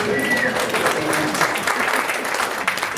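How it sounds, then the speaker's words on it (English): Audience members at a talk break into a round of applause, a full, continuous patter of many hands heard close and steady, with a faint tone in the opening moment. "Round of applause."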